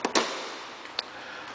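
A few sharp mechanical clunks as all four door locks of a 2009 Nissan Maxima SV engage: two quick thumps close together, then a fainter click a moment later over quiet background hiss.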